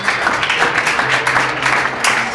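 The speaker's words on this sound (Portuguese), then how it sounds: "As palmas para Jesus." A church congregation at a Brazilian evangelical service applauds, a loud, dense wash of many hands clapping together that fills the whole moment without speech.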